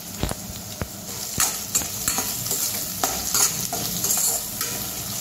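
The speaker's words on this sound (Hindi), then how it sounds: "इसमें अभी हमने डाले हैं प्याज, इसे फिर से अच्छे से मिक्स करना है" Onions for poha stirred in a hot pan, a steady frying sizzle broken by sharp, irregular scrapes and knocks of the spoon against the pan, close and fairly loud, with no one talking.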